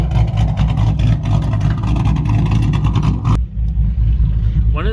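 A car with a popcorn exhaust tune rumbles loudly and close up, its deep engine drone broken by crackling pops. The sound cuts out abruptly partway through and then resumes.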